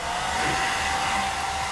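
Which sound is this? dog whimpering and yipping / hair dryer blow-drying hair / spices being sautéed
hair dryer blow-drying hair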